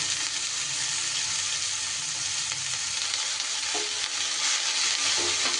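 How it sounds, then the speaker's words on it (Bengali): Cut cabbage frying in hot oil gives off a dense, continuous sizzle and crackle close up, with occasional soft knocks from stirring near the end. "এবার আমি কেটে রাখা বাঁধাকপিগুলো দিয়ে দিলাম"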